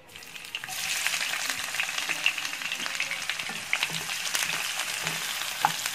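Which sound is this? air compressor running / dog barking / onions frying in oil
onions frying in oil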